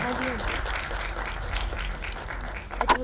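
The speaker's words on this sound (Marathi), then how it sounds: "एकदा जोरदार टाळ्या दोघांसाठी." Applause rises from the audience at a Marathi film trailer launch. The clapping is moderate and continuous, with a low background rumble and a few louder claps near the end.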